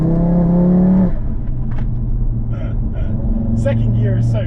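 An ECU-unlocked Audi RS3 8Y revs hard in second gear, its engine note climbing loud and close before easing off, with someone speaking briefly over the car.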